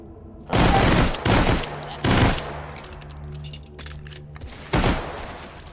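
A Steyr AUG bullpup rifle fires in H3VR in loud, close bursts with an uneven, stuttering rate: four or five separate bursts, the first ones bunched together and the last after a short pause.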